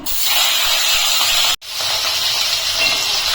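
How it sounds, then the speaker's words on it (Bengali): Rohu fish pieces dropped into hot oil with fried onions hiss and sizzle loudly and steadily, with a brief break in the middle before the frying resumes. "ওই পেঁয়াজ ভাজা তেলের মধ্যে আমি আর একটু সাদা তেল গরম বসিয়েছি এখন আমি মাছগুলোকে ছেড়ে দিচ্ছি"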